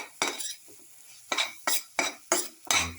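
A spoon stirs and scrapes through a garlic, tomato and coconut milk casserole in a pot, five or six distinct clinking strokes with short pauses between, close and clear.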